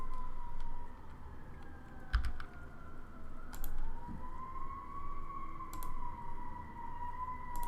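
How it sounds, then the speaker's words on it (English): Emergency vehicle sirens wail in the distance outdoors, rising and falling faintly for several seconds, while scattered sharp clicks sound close by. "Got some sirens going on in the background."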